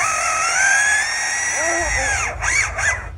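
A male lyrebird imitates a power drill, producing whining, rising mechanical tones and a few buzzing bursts that sound like a drill spinning up.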